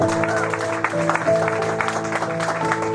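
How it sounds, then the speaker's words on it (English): Applause from a live theater audience at the Icebox Radio Theater show, staged at the Salty Jester venue, a steady dense clapping wash that fills the whole stretch with no voices over it. "Applause, applause, applause."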